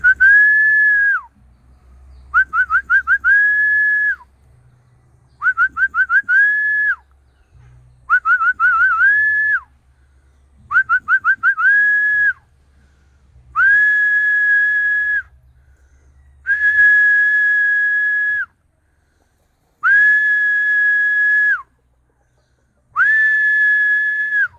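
A person whistles a repeated melodic phrase in Sta. Rita, Samar, Philippines: about nine clear bursts with short pauses between them, loud and close over a faint low rumble.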